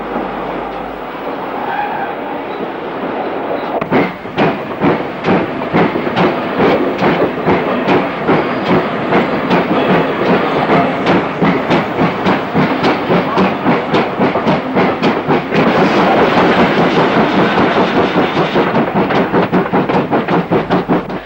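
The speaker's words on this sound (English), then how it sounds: "Carmarthen's 7814 Fringford Manor arrives for Aberystwyth with empty milk tanks for Pontflanio behind the tender" GWR 7814 Fringford Manor, a steam locomotive hauling empty milk tanks, passes loud and close with a continuous roar and a rapid, regular rhythm of wheel beats and clanks that builds and holds throughout.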